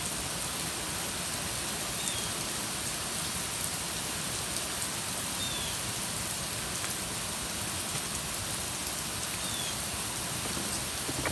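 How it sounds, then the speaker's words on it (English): Steady outdoor rain falls in a dense, even hiss with fine pattering drops on surfaces, continuous and fairly close throughout, with no speech. "I believe this rain is here for a reason."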